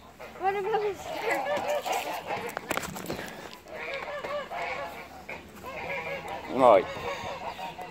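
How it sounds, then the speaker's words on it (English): Geese honk loudly and repeatedly in a noisy cluster, with a person talking over the racket and a sharper honk standing out near the end. "The geese are going crazy."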